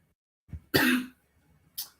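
A single sharp cough bursts out close by, followed a moment later by a brief throaty rasp; no talking.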